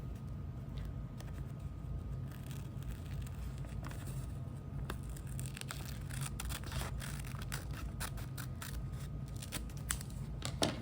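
Scissors snip paper for a surreal collage, a run of faint, irregular cutting clicks and rustles spread over a constant low background hum, with no one talking.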